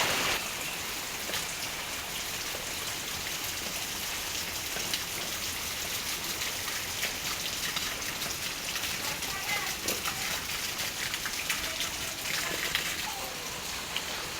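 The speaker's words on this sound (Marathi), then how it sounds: "त्या भरलचं पाणी ह्याच्यापेक्षा भरपूर वेगाने वाहतं किंवा पडतं" Rainwater pours steadily from a roof-sheet gutter during heavy rain, a dense continuous hiss and splash that stays close and unbroken throughout.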